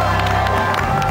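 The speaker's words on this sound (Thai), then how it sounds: "ขอเสียงปรบมือให้คุณโน" A TV studio audience on a Thai variety show claps and cheers in a dense, steady roar, loud and continuous throughout with no gaps.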